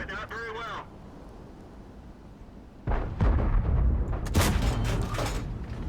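World of Tanks T26E4 Super Pershing tank gun firing, with a quiet lead-in and a high electronic whine before loud booming cannon shots and rumbling bursts arrive, close and heavy.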